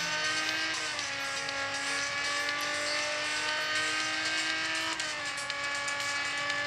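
A race car in Real Racing 3 drives a lap with a steady, sustained engine whine, its pitch dipping briefly as it brakes into a corner.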